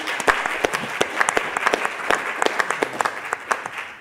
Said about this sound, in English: Let's have a round of applause for Todd Becker for opening the event.